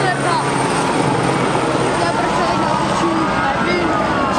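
A Czech air ambulance rescue helicopter at a helicopter show in Hradec Králové, 2011, gives off a loud, steady rotor and engine drone that runs without a break while someone narrates over it.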